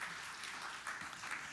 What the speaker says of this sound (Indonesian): Tepuk tangan yang meriah bagi Tuhan Yesus